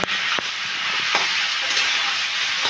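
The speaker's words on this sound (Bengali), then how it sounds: "এইবারে আমি চিংড়ি মাছের সাথে মোচাটাকে ভালো করে কষিয়ে নেব" Prawns and chopped banana flower being stir-fried in a pan, a steady loud sizzle broken by a few sharp spatula scrapes and knocks against the pan.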